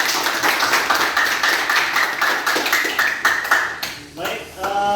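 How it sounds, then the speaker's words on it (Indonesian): Students in a mathematics classroom clap together in a quick, lively burst that tapers off, with a voice speaking over the end. "Aplaus untuk kita semua."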